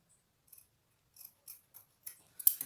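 Scissors snip through EVA foam in a handful of short, crisp cuts that come faster and louder toward the end, close up with no talking.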